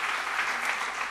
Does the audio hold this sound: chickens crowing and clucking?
no